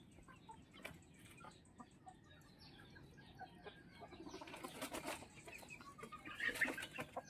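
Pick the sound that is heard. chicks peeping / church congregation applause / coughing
chicks peeping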